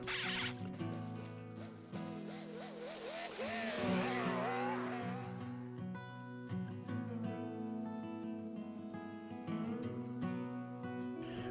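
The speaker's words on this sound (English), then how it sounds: "After the carburetor rebuild and tuning the carb a little bit, it's finally running pretty good." A small engine runs after a carburetor rebuild and tuning, idling with a steady low hum, revving up and wavering for a moment, then settling back to an even running note.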